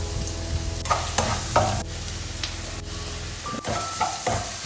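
Chopped small onions frying in coconut oil in a pan, a steady close sizzle with scraping stirs and spoon knocks throughout, no talking.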